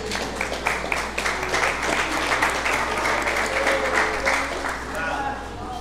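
A church congregation claps while glorifying Jesus during a service: dense, continuous applause fills the room at a moderate level, with a voice speaking over it now and then.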